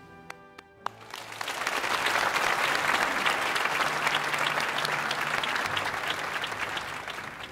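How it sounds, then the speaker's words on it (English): Sustained applause for graduates at a university commencement, a dense steady clapping that swells up after a quiet start with a few faint isolated claps, then holds at an even level before easing slightly toward the end. "Please join me in recognizing all graduates who have received their degrees with one last round of applause"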